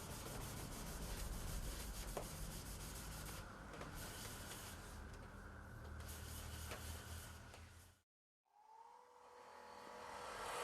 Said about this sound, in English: Sand and finish as required